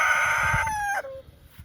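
A rooster named Gaston crows once, loud and close, a sustained harmonic call that rises, holds for about a second, then breaks off into a short falling tail and quiet.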